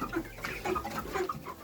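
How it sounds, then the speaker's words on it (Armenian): Chicks clucking and cheeping in a small home flock, several short soft calls scattered over about two seconds at moderate distance, with no talk. "Ասի մի հատ կամ տենամ ճուտիկներս ոնց են։"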